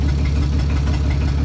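A Hercules six-cylinder boat engine runs at a steady idle, a loud continuous low rumble with an even, slightly rough pulse throughout and no voices.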